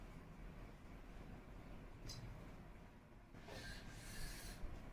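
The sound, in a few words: rubbing out writing on a board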